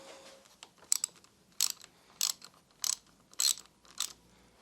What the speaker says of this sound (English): I'm just going to undo the lever.